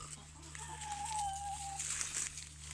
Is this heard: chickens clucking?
yes